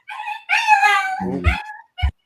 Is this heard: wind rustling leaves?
no